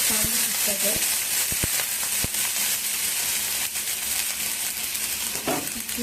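Water hissing on a hot, oiled dosa tawa, a loud, continuous sizzle with a few sharp crackles and pops early on, close up and without voices.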